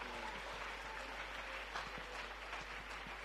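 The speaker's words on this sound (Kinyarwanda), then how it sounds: "Amashi menshi ku Mana yacu." Church congregation applauding at a Rwandan worship service, a steady wash of many hands clapping at moderate distance, continuous and even throughout.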